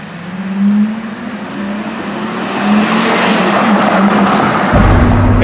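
A Porsche Carrera GT driving, its engine a loud, steady mechanical drone from inside the cabin, with road and tire noise that swells toward the end.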